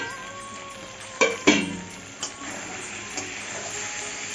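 Mutton curry sizzles in a hot pan with a steady frying hiss, broken by a few sharp scraping clatters as a spoon stirs the meat. A fainter scrape follows later.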